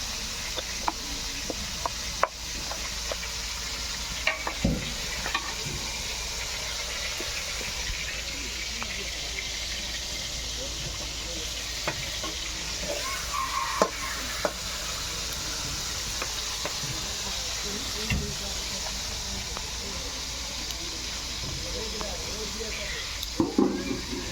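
Chicken meat fries in a pan with a low, continuous sizzle, scattered utensil scrapes and taps, and some faint background noise throughout.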